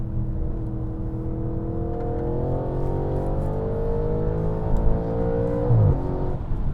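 Audi RS5 with a 450bhp engine accelerates hard, its steady engine note climbing in rising harmonic sweeps from inside the cabin, then dropping sharply at a gear change near the end.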